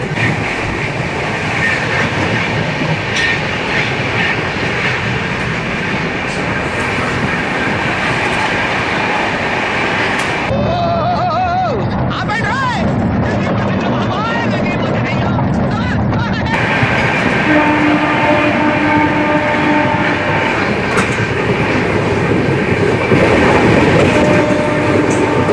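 The Swarna Jayanti Express runs on a diverted route via Bhimavaram, heard from on board as a loud, continuous rattle and clatter of the wheels on the track that rises and falls as it rolls along.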